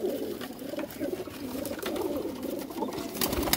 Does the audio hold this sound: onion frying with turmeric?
no